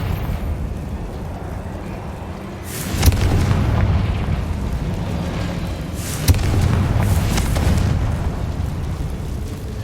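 A Confringo fire spell in Hogwarts Legacy bursts twice, with a deep boom and then a low roaring rumble after each blast, the two blasts a few seconds apart over steady background ambience.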